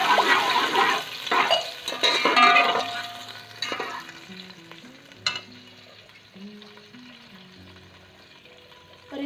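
Water poured into a pot of sizzling whole garam masala spices while cooking deghi pulao, a loud splashing hiss that settles into softer bubbling and simmering, close up, with no talk.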